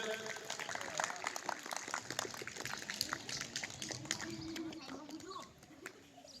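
A primary school audience at a Republic Day patriotic song event gives faint, scattered clapping, irregular sharp claps spread through the stretch and tapering off near the end.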